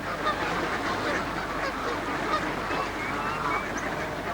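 Wild geese and ducks honking and quacking on a lake at feeding time, many birds overlapping in a steady busy chorus over watery background noise, moderately close.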